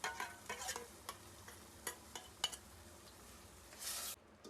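Ground paste of moringa leaves, legumes and tamarind roasting in a hot pan, with a soft steady sizzle broken by several sharp scrape-and-stir clinks of a spoon against the pan, ending in a brief louder hiss.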